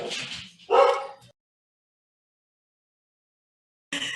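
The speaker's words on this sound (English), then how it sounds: "So that was my dog, happy that her dog walker has arrived to take her out for her walk." A dog lets out a couple of short, excited barks and yips, then silence, followed by another bark at the end.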